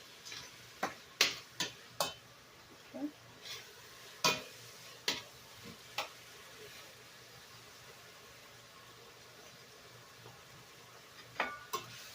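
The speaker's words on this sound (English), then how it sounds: "I know this is exciting watching me brown hamburger meat" Hamburger meat is browned in a pan with a faint, low sizzle underneath a run of sharp, irregular taps and scrapes of a utensil against the pan. The clicks are clustered early, then fall quiet before a last few strokes.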